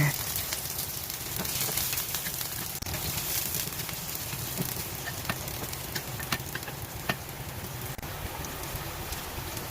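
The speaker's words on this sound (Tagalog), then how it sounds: "First, igisa po ang sibuyas, garlic, and ginger." Onion, garlic and ginger sautéing in a pan for Filipino paksiw na isda, a continuous close sizzle and crackle with occasional stirring scrapes.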